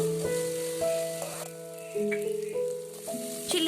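Onions and tomato fry in hot oil for kothu parotta, a soft crackling sizzle beneath a sustained tonal background hum, with intermittent stirring clatters.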